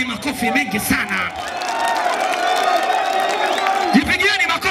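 Crowd at a music event in Namtumbo roaring and cheering with whoops and shouts, a dense sustained wall of voices mixed with music, fairly loud throughout.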